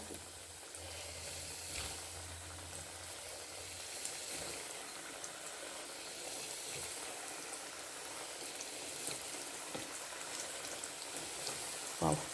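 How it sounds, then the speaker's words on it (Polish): Steady crackling sizzle of cutlets frying in hot olive oil, fairly quiet and continuous, with a few louder pops and no talking. "Wkładam na rozgrzaną oliwę i się smaży."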